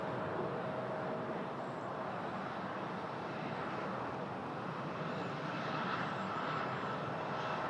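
A CRJ jet airliner at Toronto Pearson airport produces a continuous broad engine roar, moderately distant and steady throughout, with no voices.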